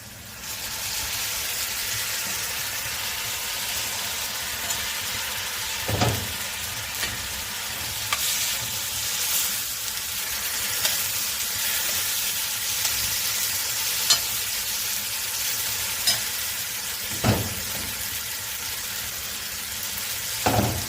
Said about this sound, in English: So we continue frying